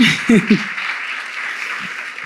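A church congregation claps during a Spanish-language sermon, a steady wash of applause running through the whole stretch, with a few brief voiced sounds rising over it near the start.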